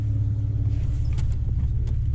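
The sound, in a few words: Chrysler Crossfire SRT6 engine idling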